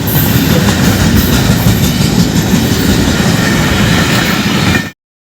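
A train rolls past at close range at Jetha Butha railway station, a loud, steady rumble of wheels and carriages with rhythmic rail clatter. The sound stops abruptly near the end.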